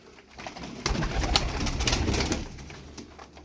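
Pigeons coo in a loft of tumbler pigeons, a soft run of low throaty calls that swells and holds near the middle, with faint rustling and a brief flutter of wings.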